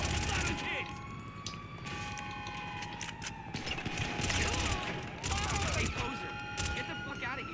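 Rapid gunfire as a magazine is emptied in GTA 5 Online, dense crackling bursts of shots over busy game sounds with a siren-like wail, while someone talks over the action.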